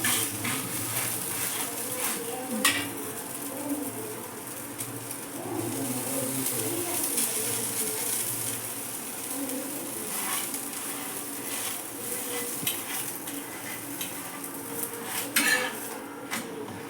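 Ragi adai dosa batter cooks on a pan with a soft continuous sizzle, while the occasional clink of utensils sounds nearby throughout.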